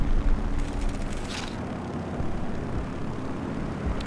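A Morane MS-406 fighter plane drones in War Thunder, a steady mid-loud propeller engine hum with a few brief gusty swells and a distant thud near the start.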